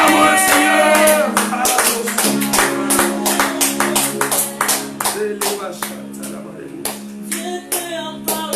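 A church congregation claps rhythmically to acclaim the Lord during a worship service, a loud, steady beat of many hands carrying on under singing voices from start to finish.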